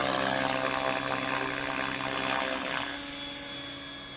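Model helicopter on a gyro-aligned flight test heading to a waypoint, a steady whirring rotor and motor drone that holds loud and continuous, easing slightly lower toward the end.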